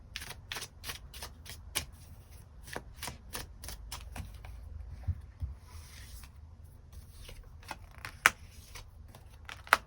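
Tarot cards are shuffled and drawn at close range in a quiet room: a run of crisp riffling snaps and card flicks, followed by softer sliding and occasional sharp taps.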